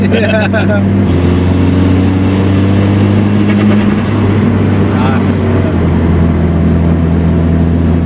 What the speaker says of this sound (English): Yeah, that comes in hard, that does, that turbo.